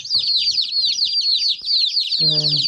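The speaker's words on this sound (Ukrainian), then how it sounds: "Ціплята, курчатка такі." Many chicks in a brooder cheep in rapid, overlapping high peeps, a busy continuous chorus close by, with a short low buzzing hum near the end.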